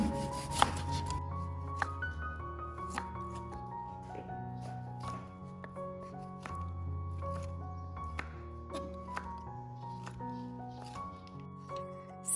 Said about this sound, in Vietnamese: Tiếp theo thì mình cắt thịt ra luôn. Mình xắt miếng vừa ăn thôi